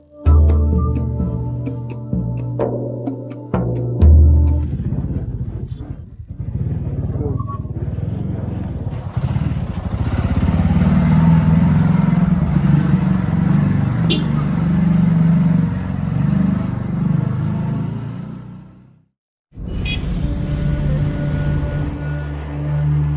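Busy city-centre traffic in Egypt, with motorcycles and cars buzzing and rumbling nearby, forms a dense, steady bed of engine noise under almost continuous talk, broken by a sharp drop to near silence before the noise returns.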